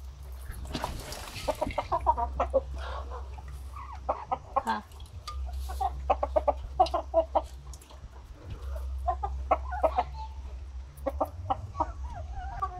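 Several native chickens cluck steadily close by in short irregular bursts while eating chopped green grass, with a low steady hum running underneath throughout.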